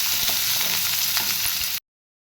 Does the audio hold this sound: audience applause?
no